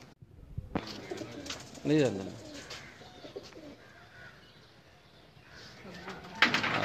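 Pigeons coo from a rooftop loft of eleven birds, a soft repeated cooing heard at moderate distance under an ambient outdoor background, while someone speaks briefly near the start.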